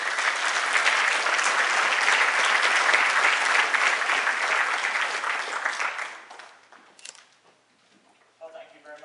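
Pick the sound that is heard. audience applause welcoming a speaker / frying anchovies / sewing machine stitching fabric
audience applause welcoming a speaker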